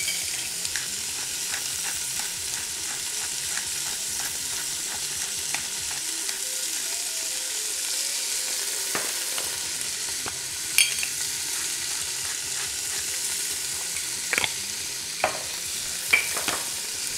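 Beef searing in an Instant Pot with salt and pepper, giving a loud, steady close-up sizzle and crackle throughout, with occasional sharp pops and light stirring clinks.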